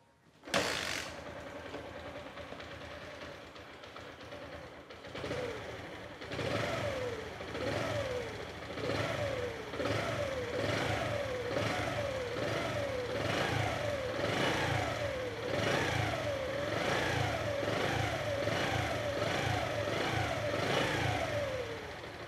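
A Bajaj Platina 100 motorcycle fires up after an engine rebuild, catching after a brief crank and settling into a steady, pulsing single-cylinder idle with a regular rhythmic beat, running alone at moderate volume for about twenty seconds.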